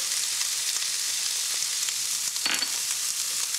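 Garlic frying in a pan with bacon and its rendered fat, a steady close sizzle of hot fat with one brief sharper crackle partway through, with no talking.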